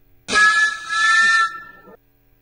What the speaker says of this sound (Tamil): இதை பாருங்க, இது ஹார்ன்